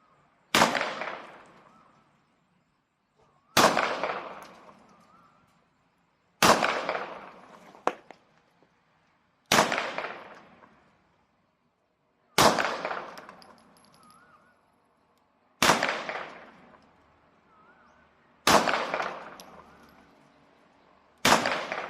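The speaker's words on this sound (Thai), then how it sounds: "ยิงด้วยลูกโม่ก่อนนะครับ" Revolver shots fired into the ground, eight loud sharp bangs spaced roughly three seconds apart, each with a short decaying tail, outdoors with no talking between them.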